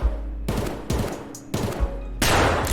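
Several loud, sharp gunshot blasts in the game Escape From Tarkov, close and forceful, each with a broad crack and lingering tail, the last one heaviest and sustained.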